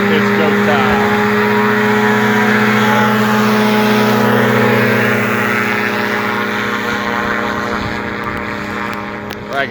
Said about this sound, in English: taking off in their power parachutes